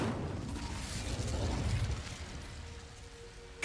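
The Incendio fire spell is cast in Hogwarts Legacy, giving a sustained roaring, crackling burst of flame that swells and then fades, ending in a short sharp hit, with no voices.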